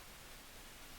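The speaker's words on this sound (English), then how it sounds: "I like to have the pink noise running into the VU meter" A steady hiss of pink noise test signal, smooth and constant, fills the short stretch at an even low level with no other sounds.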